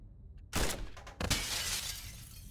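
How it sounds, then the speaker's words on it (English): Glass shatters in the space-heist video game Heat Signature: a sudden loud crash followed by a second burst of breaking and scattering shards, with no one speaking. "breaking the glass doesn't set off the alarm"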